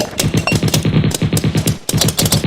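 Loud, rapid automatic gunfire rattles in fast continuous bursts, with a brief break before another burst resumes.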